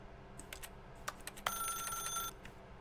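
In The Stanley Parable, a game telephone gives a short electronic ring with a sustained high tone after a few brief clicks, fairly close and moderately loud, ending abruptly.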